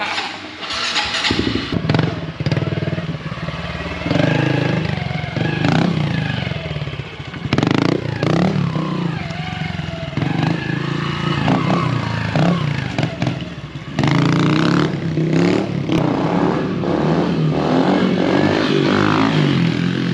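A loud high-compression big bore engine revs hard and repeatedly, a deep rough roar rising and falling with clattering bursts, close by and continuous throughout.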